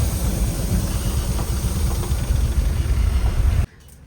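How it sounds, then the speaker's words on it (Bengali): The Darjeeling toy train rumbles past on the approach into Darjeeling, a loud, steady mechanical roar with clattering texture that cuts off abruptly near the end. "দার্জিলিং যাওয়ার মুখে ঢুকার মুখে এই টয় ট্রেনটা সেখান দিয়ে পাস করছিল"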